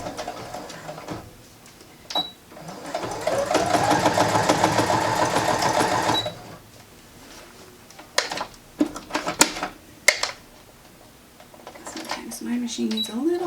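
A home sewing machine running a seam on fabric for a wheelchair coat, a close steady mechanical whir lasting a few seconds, then short clicks and bumps with a voice talking nearby.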